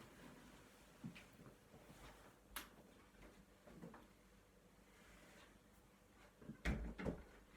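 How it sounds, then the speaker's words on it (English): Faint rustling and handling noises, then a few soft knocks and a muffled thud as a door is pushed shut near the end. "I want you to have a look at those while I shut the door."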